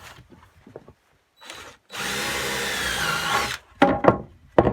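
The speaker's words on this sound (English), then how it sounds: "So I'm actually going to pre-drill. I'm pre-drilling at a 45 here." A power drill pre-drills into a wooden stud at a 45-degree angle in one loud, steady burst lasting a couple of seconds, with quieter knocks and handling sounds before and after.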